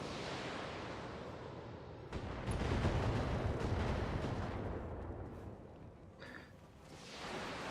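Battletech mechs open fire on turrets and an enemy building, producing a long, heavy rumble of distant weapon fire and booming explosions that swells, fades, then returns, with a few quick sharp bursts mixed in.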